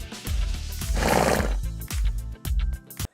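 A horse neighs loudly and close, a long rising whinny with shuddering harmonics, followed by a few shorter snorting calls and some hoof-like knocks, with no talking.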